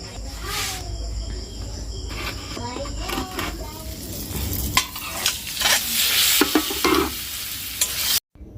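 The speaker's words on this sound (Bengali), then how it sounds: "এখন ডিমটা ভাজা করব" An egg sizzles and fries in a pan on a home stove, with a steady hiss under scraping and stirring sounds, crickets chirping in the background and brief voices nearby.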